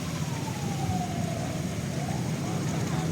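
An ambulance siren wails in a slow falling and rising tone amid street noise in a flood-hit town in Aceh Tamiang, moderately distant, with voices faintly present.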